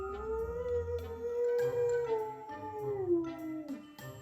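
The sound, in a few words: dog howling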